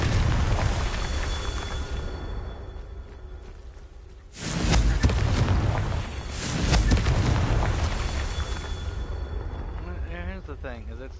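Confringo spell explosion in the video game Hogwarts Legacy, a loud roaring blast that erupts suddenly and rumbles for several seconds, followed by a second swell, with talking before and after.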